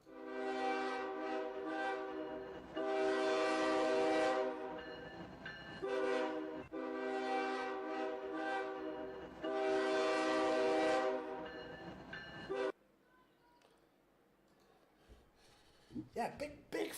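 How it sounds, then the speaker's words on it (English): An express train called the Flying Scotsman approaches a station platform, its horn sounding in long, loud harmonic blasts repeated several times, followed by quieter rumbling and a few clanks. "the next train approaching platform 2 is your express service"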